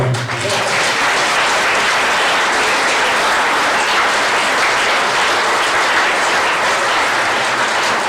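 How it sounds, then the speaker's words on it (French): Loud, dense applause from a crowd gathered for a mayor's New Year greetings event in Verlinghem, sustained evenly throughout without pause. "vous pouvez les applaudir quand même."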